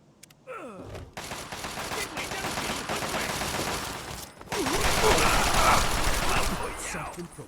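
Sustained rapid automatic gunfire from a battle in the video game Fallout 3, loud and continuous with a brief pause midway, then a heavier burst with voices shouting over it.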